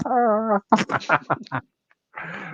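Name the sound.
pet cat meowing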